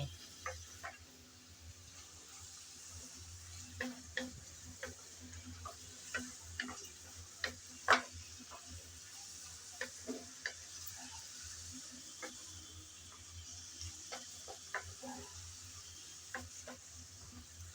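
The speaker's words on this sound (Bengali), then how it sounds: "আমি কিন্তু এই ভাজির মধ্যে লবণ হলুদ কোনো কিছুই দিই নাই শুধু তেলেই বেজে নিচ্ছি" Mixed vegetables fry in plain oil with a soft, low sizzle while a spatula stirs them. The stirring makes scattered ticking scrapes against the pan throughout, fairly quiet and close.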